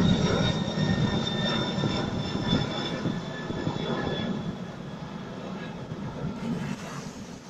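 An airplane drones overhead near Senaga Island, Okinawa, a steady engine roar with a high whine that slowly fades a little as it passes.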